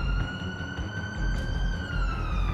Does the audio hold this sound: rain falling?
no